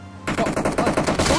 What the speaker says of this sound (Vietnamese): có tiếng bắn ở đây này